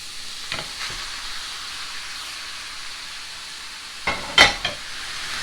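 Hamburger beef sizzles steadily in a pan for a hot dog casserole, a constant hiss with a few sharper crackles and stirring scrapes near the end.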